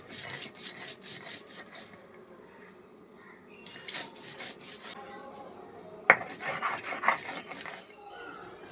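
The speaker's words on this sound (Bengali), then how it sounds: "আমি শিলনোড়াই পেস্টটা করে নিচ্ছি মানে বেটে নিচ্ছি অল্প অল্প জল দিয়ে" Spice paste ground with a little water on a shil-nora grinding stone, giving rhythmic bursts of rough stone-on-stone rubbing separated by pauses, with one sharp knock partway through.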